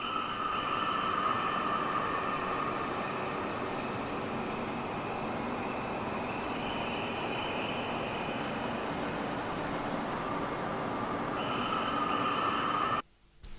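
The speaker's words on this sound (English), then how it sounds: "I grabbed this cymatic live ambience sound and I added it in the sample to add that ambience" Live nature ambience sample from Cymatic, treated with delay and reverb, a continuous wash of outdoor noise with faint bird-like tones, steady and moderately quiet throughout before a brief dropout near the end.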